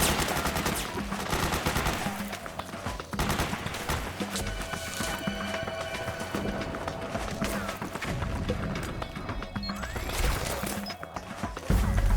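Rapid gunfire rattles during suppressing fire in Metal Gear Solid 4, bursts of machine-gun shots and scattered single cracks mixed with impacts, running continuously under shouted voices.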